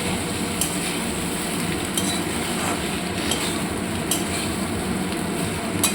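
Spiced masala being stirred together with fried potatoes and eggs in a pan, a steady sizzle under repeated scraping and clinking of a spatula against the metal, with no talking.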